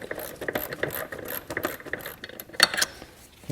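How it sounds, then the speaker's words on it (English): A hand ratchet tightens EGR valve bolts on a Ford Escape 3.0L engine, giving a rapid series of close, crisp clicking pawl sounds in short bursts. "I'll take the ratchet, tighten these down the rest of the way."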